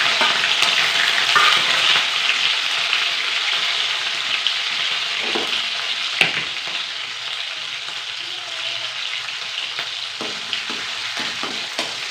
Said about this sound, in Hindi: सब्ज़ी मैंने छौंक दी है